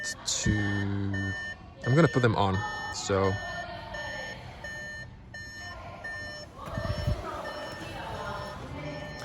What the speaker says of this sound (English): The car is gonna beep.